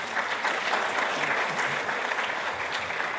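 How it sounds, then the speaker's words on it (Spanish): A church seminar audience gives loud, sustained applause in welcome of a pastor from the Good News mission in Peru, a dense steady roar of many hands clapping throughout. "Recibámosle con fuertes aplausos"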